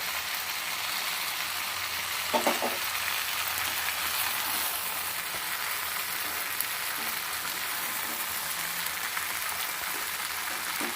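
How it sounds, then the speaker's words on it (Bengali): Steady close sizzle of plum pickle frying with salt in a pan, village-style preparation, a continuous hiss with a few brief clinks and scrapes, no talk. "ভালো করে লবণ দিয়ে আবার একটু ভেজে নেব"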